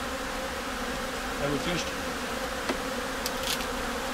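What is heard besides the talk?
honey bees buzzing around an open hive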